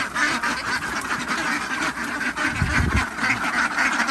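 Many young laying ducks quacking together in a steady, busy chorus, close by, with a dense continuous hubbub and a louder burst partway through.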